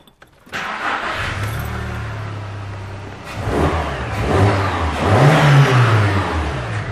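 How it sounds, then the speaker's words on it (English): A car engine turns over and settles into a steady idle during an accelerator pedal test for error code P2127, then revs up a couple of times, close and fairly loud, with no talking. "We'll run the engine."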